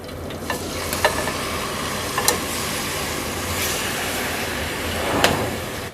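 Half a kilo of minced meat hits hot ghee in a karahi, giving a steady frying hiss with several sharp clanks and scrapes from the spoon, no talking.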